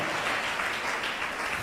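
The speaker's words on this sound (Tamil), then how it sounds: "கைத்தட்டு கைத்தட்டு மகனே." Church congregation clapping together, a steady mass of hand claps heard at moderate volume without a break across the brief moment.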